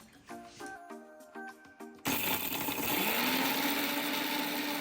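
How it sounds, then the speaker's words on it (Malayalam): After a few short musical tones, a kitchen mixer grinder starts abruptly and grinds chutney ingredients with salt in a loud, steady whirring roar that runs to the end. "ഇനി നമുക്കിതൊന്ന് അരച്ചെടുക്കാം."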